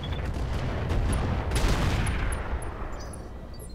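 Mech weapons firing in the video game Roguetech, a dense volley of heavy shots and blasts building to a loud peak mid-clip before fading into rumbling debris, with no talking.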